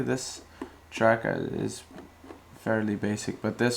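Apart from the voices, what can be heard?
No everyday noise stands out behind the speech.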